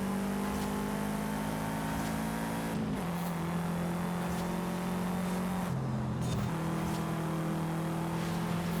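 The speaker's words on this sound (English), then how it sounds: "Sounds like a Subaru." A Subaru engine revving in Forza Horizon 5 during an off-road lap on off-road tires, a loud steady drone with two sharp pitch drops as gears shift, and no talking over it.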